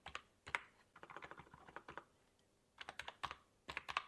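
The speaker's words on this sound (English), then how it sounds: "You need to use the keyboard. You can't use the mouse to get to a bit here." Keys clack on a computer keyboard used with a Raspberry Pi, in quick close bursts of taps. A short pause falls in the middle, then the rapid typing resumes, heard alone and fairly quiet.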